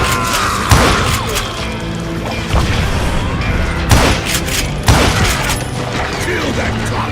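Gunfire from the video game Call of Juarez Gunslinger: four or five loud, booming shots land at irregular intervals over a dense, continuous bed of game noise and mechanical clatter, with no clear speech.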